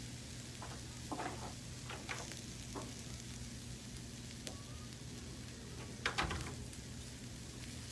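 Food sizzles steadily in a Lodge cast iron pan, a constant close crackle and hiss with scattered louder pops and spatters, heard alone without talk.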